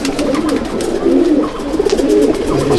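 Andhra pigeons in a loft keep up continuous low, throaty cooing at close range, one rolling call running into the next, with no voices over it.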